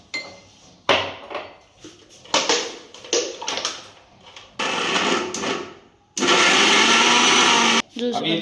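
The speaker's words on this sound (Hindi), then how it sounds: "अब मिक्सी में इसको ग्राइंड कर लेंगे" A mixer grinder grinding gooseberries runs in short, repeated pulses, whirring loudly, then a longer continuous grind, with clattering from the jar between bursts.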